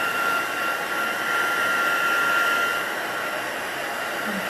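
A hair dryer blows steadily on a wet stamped paper card, a loud continuous whooshing hum with a faint high whine that holds unbroken for the whole stretch.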